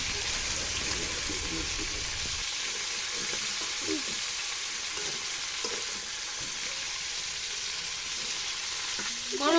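Broiler chicken meat frying in a clay-stove pan gives a steady, loud sizzle throughout, with faint spatula scrapes and a brief voice near the end.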